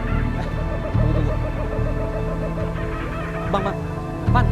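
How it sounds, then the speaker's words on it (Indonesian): A forest bird on Mount Ceremai gives loud, repeated cackling calls that resemble human laughter, rising in short bursts over a steady background, close and prominent with no clear talking. "lu dengar suara burung nggak sih? Cuma suara burungnya kayak orang ketawa ya?"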